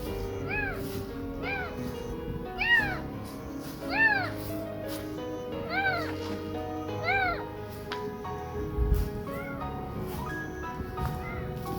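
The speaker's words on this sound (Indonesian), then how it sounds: "Ada kucing." A cat meows repeatedly at night, about eight distinct rising-falling calls at a fairly regular pace, close and clear over a faint background hum.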